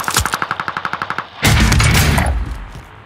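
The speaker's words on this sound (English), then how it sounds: "They're shooting me from the right." Rapid automatic gunfire in Call of Duty: Modern Warfare, a fast burst of about a dozen evenly spaced shots followed by a heavy, loud blast that rumbles and fades.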